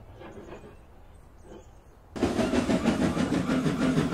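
A steam engine train pulls away after leaving its trucks in a yard, a sudden loud, steady rumble with rhythmic chuffing that starts midway after quiet, faint ambience.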